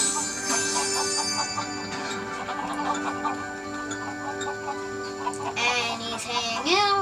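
Chickens clucking on a farm in the Lego Worlds video game on PS4, steady game-audio clucks and chirps over a constant background tone, with a rising squawk near the end.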